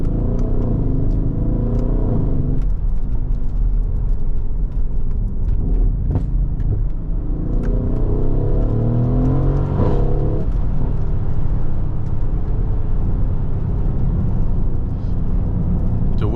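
A Mercedes-AMG GLE 63 S SUV engine, rated 800 hp, rumbles and revs steadily, with rising whirring surges under throttle, loud and close throughout with no talking.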